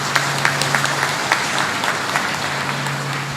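Audience applause at a university program in Kedah, Malaysia, a steady wash of clapping with sharper individual claps standing out, moderately loud and continuous throughout, with a low steady hum underneath.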